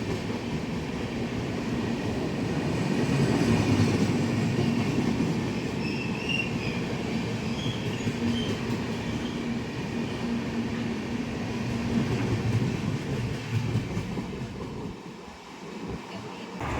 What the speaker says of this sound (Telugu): ప్లాట్ఫామ్ నెంబర్ 3 మీదకైతే ఒక ట్రైన్ అయితే వస్తుంది